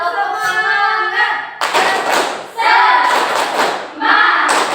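Children in an Islamic religious education class do a rhythmic group clap, loud close bursts of clapping and chanted voices in short repeated phrases separated by brief pauses.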